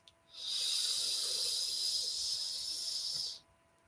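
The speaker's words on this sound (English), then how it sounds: "as we inhale, we're going to hear a nice hissing sound" A long, steady hiss of air drawn in through the tongue and teeth, lasting about three seconds before stopping abruptly.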